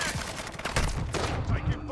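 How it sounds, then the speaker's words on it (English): Rapid gunfire crackles through a video game shooter, bursts of shots overlapping with battle noise and shouted callouts in the background, moderately loud and continuous. "Taking fire over here."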